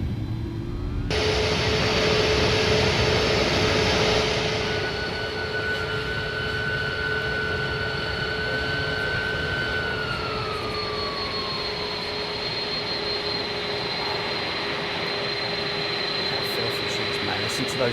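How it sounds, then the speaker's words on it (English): Simulated CF6 jet engines in Microsoft Flight Simulator 2020 give a steady, sustained whine with high tonal whistles over a broad rumble. One whistle pitch slides downward midway while the drone carries on alone at moderate level. "Listen to the whistle from them, man."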